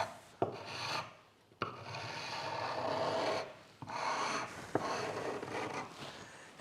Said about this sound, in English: so I'm just using a chisel